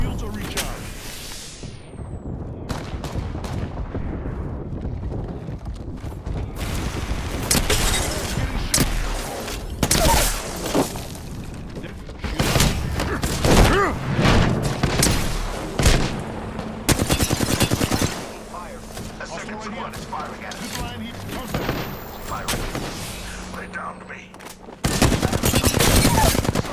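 Rapid, loud bursts of automatic gunfire and heavy blasts erupt in a video game firefight with airstrikes and grenades, crackling close and nearly nonstop while voices speak intermittently over the shooting.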